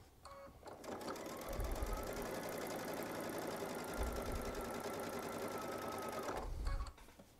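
Baby Lock Solaris sewing machine piecing a quilt block with a quarter-inch seam, a fast even whirring stitch run of about six seconds, close and steady, starting and stopping cleanly.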